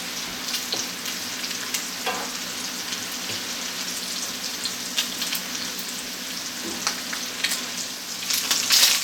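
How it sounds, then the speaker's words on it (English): Spinach sweats in oil in a very large pan for deep dish pizza, giving a steady, close, even sizzle with a few light clicks of stirring and no talk. "We want to go ahead and add the spinach so we give everything plenty of time to sweat out."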